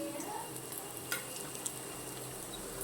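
Quiet, steady sizzling of egg pakoras frying in hot oil, a soft continuous crackle with a few faint clicks.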